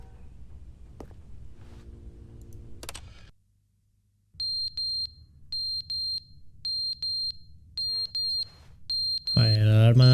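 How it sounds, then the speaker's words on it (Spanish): A smoke alarm with a dying battery chirps in short, evenly spaced high beeps, about five or six in a row, loud and close over a low steady hum inside the game The Stanley Parable: Ultra Deluxe, after a stretch of other sounds. "la alarma esta de humo se ha quedado sin batería"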